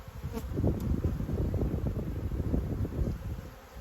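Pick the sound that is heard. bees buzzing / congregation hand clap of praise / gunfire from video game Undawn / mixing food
bees buzzing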